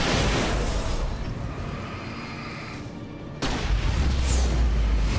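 A flare gun fires in a video game, giving a loud muffled boom with a rumbling decay, followed by a second sharp burst near the end.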